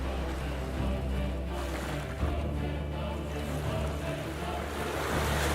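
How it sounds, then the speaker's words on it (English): Ocean waves roll in a constant, heavy wash of surf with wind noise, loud and sustained, with subtle swells and no voices. "The waves were black, titanic. They rolled with fury."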